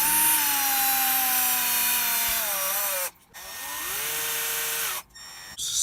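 A tapered step bit on a power drill whines steadily through plastic on a Game Boy shell, pitch sliding down as the bit bites deeper, cutting off twice in brief pauses before resuming.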